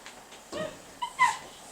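A young puppy named Jake gives a few short, soft whimpers and yips close by in a quiet home room.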